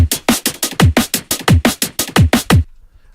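A punchy drum loop with regular hits of kick and snare in a steady rhythm, loud and dry, stopping abruptly near the end.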